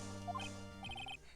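A parrot witness in the Phoenix Wright Ace Attorney video game lets out a short burst of electronic warbling squawks, two quick chirpy phrases heard close and alone.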